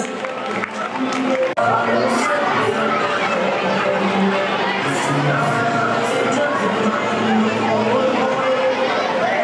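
Audience at a school annual function applauding a class 8 girls' group as they leave the stage, loud sustained clapping and cheering mixed with crowd chatter throughout.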